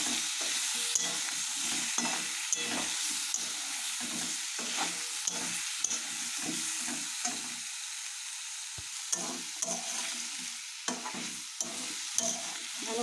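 Jackfruit cooks in a pan with turmeric, chili powder and salt for a meat curry, frying with a constant sizzle while a spoon stirs it in quick, repeated scraping strokes, close and with no speech.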